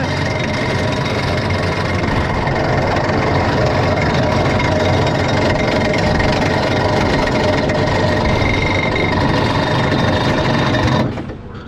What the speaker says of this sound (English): Oh, it was a noisy lift, wasn't it?